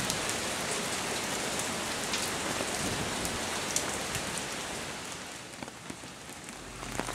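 Steady rain falling and pattering on surfaces, a dense continuous hiss with scattered drop impacts, no voices.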